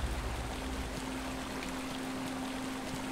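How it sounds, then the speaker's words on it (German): A waterfall in Batman: Arkham Asylum gives off a steady, even rushing wash of water with a faint low hum underneath, continuous and unchanging throughout. "es ist einfach nur ein Wasserfall-Dingens"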